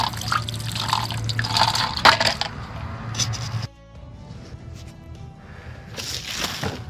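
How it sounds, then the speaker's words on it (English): Water poured onto freshly potted hosta seedlings topped with sand in a greenhouse, a close splashing and dripping flow that stops abruptly, followed by quieter trickles and drips. "Give them some water."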